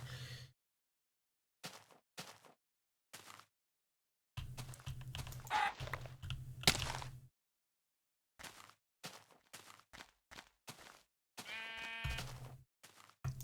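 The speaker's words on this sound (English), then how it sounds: "Guess I'll shear any sheep I come along." Minecraft sheep bleat in scattered bursts, some short and some drawn out, with a wavering, harmonic-rich bleat near the end and quiet gaps between calls.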